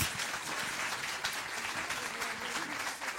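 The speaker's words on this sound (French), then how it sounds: "Je vous prie d'applaudir encore une dernière fois Amélie Dalmazo et David Lermite" Audience applause for two speakers at a meeting, a dense steady wash of clapping from a crowd that holds evenly throughout without pause.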